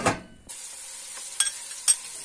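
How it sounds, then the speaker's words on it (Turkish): Chickpeas frying in a pan with potatoes and meat, a steady soft sizzle running throughout with a louder burst at the start and a couple of brief stirring clatters near the end. "2 su bardağı nohutu da üstüne ekliyorum. Bunlar da 5 dakika böyle kızarsın birlikte."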